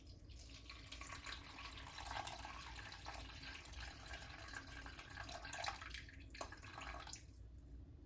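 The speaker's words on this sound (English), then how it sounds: "I add 200 grams of warm filtered water." Warm filtered water runs steadily into a bowl for several seconds, a continuous close splashing pour that cuts off near the end.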